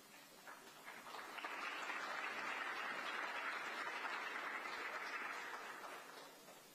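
Audience at a Charlotte fire department awards ceremony applauds, the clapping swelling in, holding steady as a broad wash of many hands and then tapering off, fairly distant and soft.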